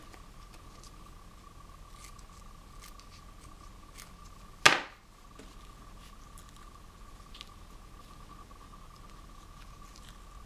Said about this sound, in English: I'm going to cut this down even a little bit more.